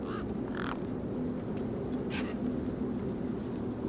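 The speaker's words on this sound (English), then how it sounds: "You see all these birds all over the place?" Birds in the video game Beyond a Steel Sky give a few harsh crow-like caws over a dense, steady ambient rumble, scattered calls rising briefly above the background.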